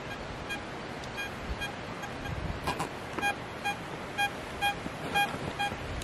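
Short electronic beeps from a Vista X metal detector repeat at a fairly regular pace over a soft hiss of outdoor background noise, growing a bit more frequent in the second half.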